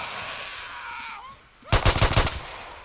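Video game gunfire in a survival shooter, heard as a rapid close burst of roughly eight loud shots that follows a sustained electronic tone.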